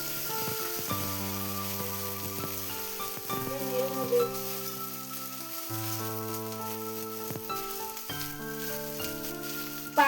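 Potato and eggplant fry in hot oil in a pan, making a steady, close sizzle with soft crackles. Louder background music with sustained chords plays over it, and no one speaks.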